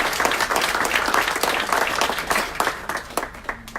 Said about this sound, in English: give a round of applause, Abigail Arias.